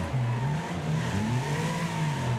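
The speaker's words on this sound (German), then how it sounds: "Das Auto ist so schnell." A car engine in the Wreckfest racing game revs steadily and loudly the whole time, its pitch rising and falling with the throttle, and no one talks over it.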